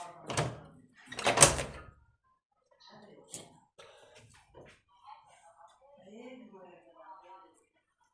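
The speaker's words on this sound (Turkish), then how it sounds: "buradan kapı sesi geldi" A door clunks twice in quick succession indoors, fairly loud and close, followed by softer clicks and rustling under quiet speech.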